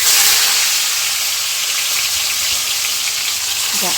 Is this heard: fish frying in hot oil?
yes